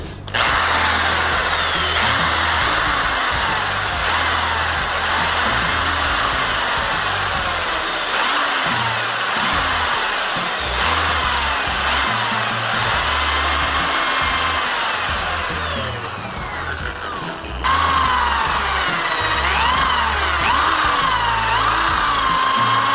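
A power drill bores two holes through an aluminum part with a 3mm bit during repair of a Yamaha RXT135 motorcycle's brake pedal and front fender, a loud steady whine that dips briefly before spinning up again, no talk.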